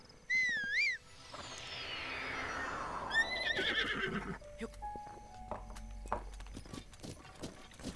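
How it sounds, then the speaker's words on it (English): A horse whinnies loudly in Zelda: Breath of the Wild after being called, followed by a swelling whistle-like sweep and then the rapid clip-clop of hooves breaking into a gallop, with no voices. "Let's go and call my horse."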